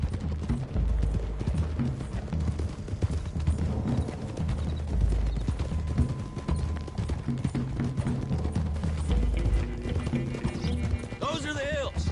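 Horses' hooves clip-clop at a steady trot along a trail in Red Dead Redemption 2, several animals moving together, loud and continuous, with a whinny near the end.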